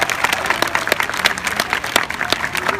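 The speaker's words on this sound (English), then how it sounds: "How about another big round of applause for our 2 stars?" An audience at a sea lion show breaks into loud, lively applause, with many sharp overlapping claps and a faint crowd murmur, sustained for about three seconds.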